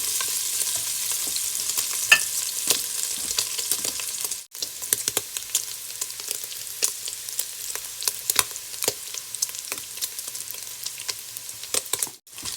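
Bacon frying and browning in a pan, a close, continuous crackling sizzle with frequent sharp pops and spits scattered throughout, briefly dipping quieter partway through.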